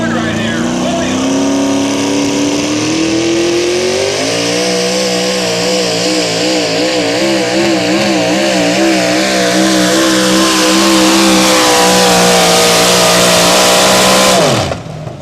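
A Dodge pulling truck's engine roars loud and close at a truck and tractor pull, climbing in pitch and holding a harsh, wavering howl through the whole pass before cutting off abruptly near the end.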